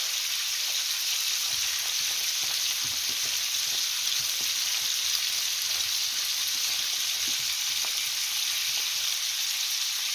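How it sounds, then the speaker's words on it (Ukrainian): Cornmeal banosh porridge is stirred in a pot as flour is gradually added to boiling liquid, giving a steady, close hiss of bubbling with faint, irregular scraping from the spoon throughout and no talk. "Додаю тепер ще, бачите видаю. І гарненько вимішується."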